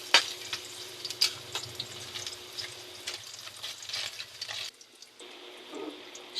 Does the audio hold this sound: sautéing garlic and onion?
yes